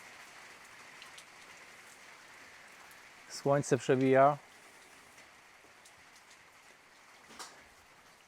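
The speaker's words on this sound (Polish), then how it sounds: "Deszcz zasuwa." Steady rain pattering on surfaces throughout, with a short spoken phrase midway and faint scattered drips.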